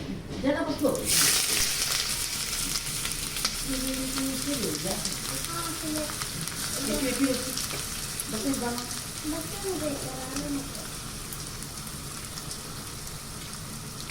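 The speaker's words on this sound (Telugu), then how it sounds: "సో మంచిగా ఆయిల్ అయితే హీట్ అయిపోయింది. సో ఇప్పుడు ఆనియన్స్ అనేవి వేసేసుకుందాం." Onions dropped into hot oil for a kaleji curry crackle into a steady, rain-like sizzle that runs throughout, with a person talking over it.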